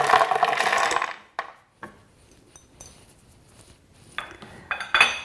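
Pecan nuts tipped into a grinder, making a rattling clatter at first, then scattered hard clinks and taps of nuts and utensils, close and moderately loud with quiet gaps.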